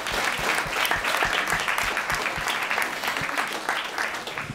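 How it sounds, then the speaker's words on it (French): Students and audience at a school conference clapping, a lively, fairly loud burst of many hands with some sharper individual claps, holding steady before easing slightly at the end. "on peut applaudir Arnaud quand même"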